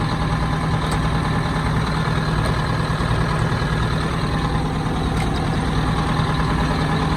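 Two-stroke Detroit diesel engine running after a cold start, a loud, steady, low rumbling drone with a constant throb that fills the whole stretch and stays unchanged from start to finish.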